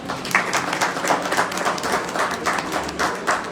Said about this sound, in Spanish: Un aplauso grande, por favor.